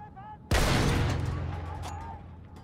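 A sudden heavy boom of artillery fire in the video game Battlefield 1 erupts, followed by a rumbling roar of continued blasts and debris that slowly fades.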